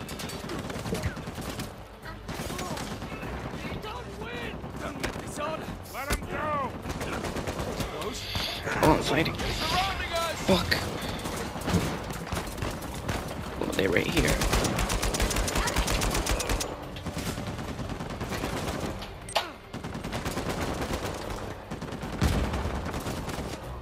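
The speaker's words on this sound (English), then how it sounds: "Start shooting, start shooting." Dense video game gunfire rattles in bursts and sustained automatic volleys throughout, with excited player talk overlapping the shots.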